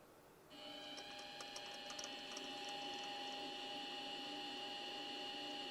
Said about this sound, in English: Let me show you how it spins on the lathe.